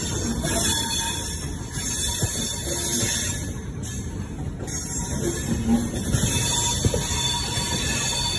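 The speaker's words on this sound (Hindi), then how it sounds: "ठीक सामने इसकी लोकल ट्रेन जा रही है।" A local train near Delhi rumbles past steadily nearby, wheels clattering with occasional high squeals over a continuous roar.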